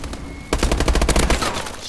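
Rapid automatic gunfire in Call of Duty: Advanced Warfare, a loud close burst of about a dozen shots in quick succession starting half a second in and fading out over a second and a half.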